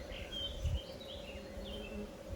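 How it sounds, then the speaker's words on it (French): A honeybee vibrates during its recruitment dance inside a hive, giving a steady, close insect drone with a constant hum and faint fluttering layers. "On a une abeille ici qui vibre."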